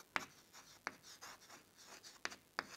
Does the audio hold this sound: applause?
no